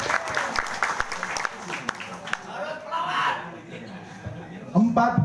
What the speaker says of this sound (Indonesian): Terima kasih, tepuk tangan sekali lagi.